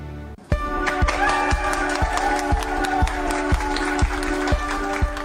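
Hospital medical staff applaud a patient cured of Covid-19, steady close clapping from a small group with regular sharp accents over a continuous crowd wash, starting abruptly after a brief silence.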